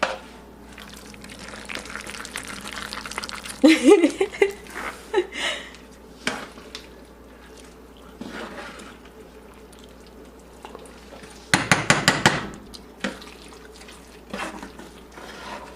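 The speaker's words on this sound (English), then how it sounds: "You can hear the lovely sound of cheese and macaroni." A spoon stirs gluten-free macaroni and cheese with ham in a pot, making wet squelching and sticky clacking in two louder bursts among quieter stirring, close up with no talking.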